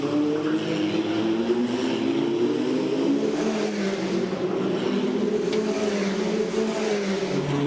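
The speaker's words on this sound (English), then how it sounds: "Number 8 car of Charlie Wirtz threads his way carefully around the top part of the circuit" An FIA Formula Regional race car laps the Macau Grand Prix street circuit in qualifying, its engine a loud, continuous high-revving drone held at steady pitch, heard on board and close with no clear speech.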